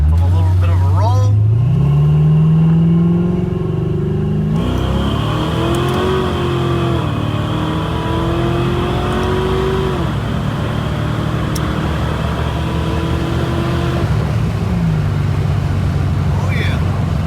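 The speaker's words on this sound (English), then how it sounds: "This is how it sounds with turn downs on it." Foxbody Mustang fitted with exhaust turndowns, a loud rumbling V8 burble that climbs and settles through a couple of revving pulls from a slow roll, with engine drone steady throughout and voices talking over it.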